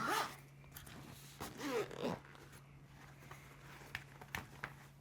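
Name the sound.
YKK zipper on a Bellroy toiletry kit being opened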